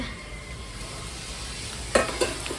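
Food sizzles steadily in hot oil, a close, even hiss broken by a couple of brief scraping clatters near the end.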